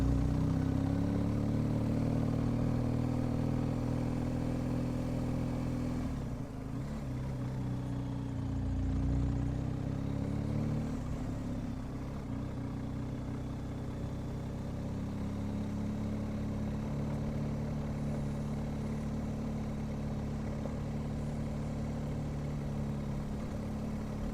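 A 2021 BMW R1250 GS TE motorcycle cruising along Monmouthshire back lanes, its steady low engine drone and wind rumble continuous and close, briefly dipping once as the rider eases off, with no talking.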